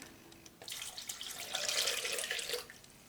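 Lukewarm water runs from a tap into a bowl for sourdough, a quiet hiss that starts abruptly, swells into a splashing pour for about two seconds, then tapers off.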